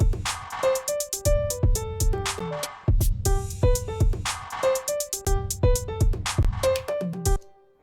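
A short riff-based melody in ABAA form played on a pitched instrument, with distinct plucked or struck notes in a repeating rhythmic pattern, close and clear, with no voices.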